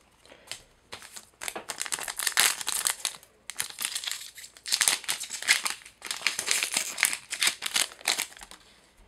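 Crinkling foil wrappers of Cardfight Vanguard Extra Booster Requiem at Dusk packs being torn open, bursts of crisp crackling and tearing close up, in several rustling clusters with short pauses and no speech.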